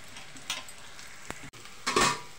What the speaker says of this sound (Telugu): బాగా వేయించుకుందాం.